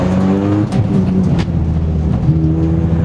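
A prepared Peugeot 206 RC race car engine drones loudly up close on a track, holding a strong steady tone with a couple of brief pitch dips as it strains to accelerate out of a turn.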